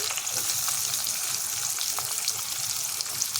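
Chopped onion and ginger frying in hot oil in a pan for pangash fish paturi, a loud dense crackling sizzle that runs continuously throughout, with no talking.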